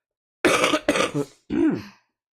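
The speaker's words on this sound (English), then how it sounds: "I'm just going to apologize for the coughing right now" A person nearby clears their throat twice in quick rough bursts, then gives a single husky cough.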